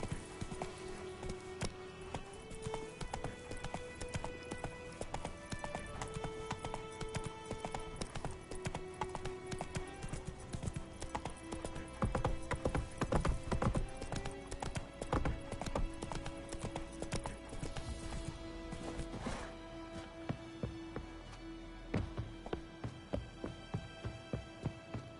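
A horse's hooves clip-clop steadily in the video game Witcher 3. The rhythmic, fairly close hoofbeats play beneath ongoing game music and sound effects.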